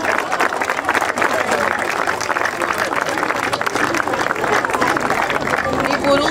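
Steady applause fills a school's formal opening ceremony for the new academic year, a dense continuous wash of many hands clapping in a hall, with crowd murmur underneath and no pauses throughout.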